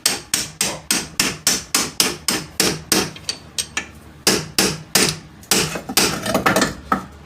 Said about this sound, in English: Punch that sucker out of there like that.